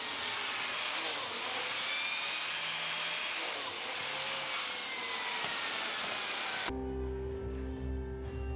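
A Lamello biscuit joiner cuts slots into a drawer, producing a sustained, close whirring buzz that cuts off abruptly near the end into a low motor hum.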